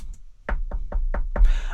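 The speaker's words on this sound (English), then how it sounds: "So you knock on the door." Five sharp knocks rap on a door in an even, quick rhythm, close and distinct, ending in a brief scuffing noise.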